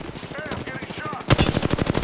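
Rapid automatic gunfire in the Apex Legends video game, a dense burst of close shots that turns louder and sharper partway through, with faint voices underneath.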